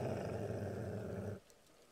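A dog in the horror video game Kane growls low and sustained, a rumbling snarl lasting over a second before it drops away to quiet background ambience.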